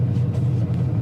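A hard-used 2018 HPDE track car's engine rumbles loud and close during a heel-toe downshift, a steady low growl with no break.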